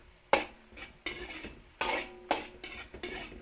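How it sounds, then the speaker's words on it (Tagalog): Chorizo de Bilbao being sautéed in a pan, with a spoon scraping and stirring in several distinct strokes over a soft sizzle, close and clear with no talk. "Lagay po tayo ng chorizo de Bilbao, gisa natin."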